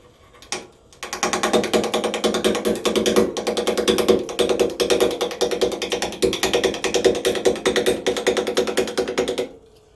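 Maple being turned on a wood lathe while the gouge catches the grain and flakes off big chunks, giving a loud, steady, rapid chattering clatter that runs continuously for most of the clip after a brief start.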